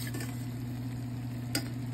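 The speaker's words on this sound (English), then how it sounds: "I wanted to stir fry and see" Hibiscus leaves are stir-fried in a pan, with a soft continuous sizzle, a couple of light utensil scrapes and a single brief clink, close and fairly quiet, with an electrical hum beneath.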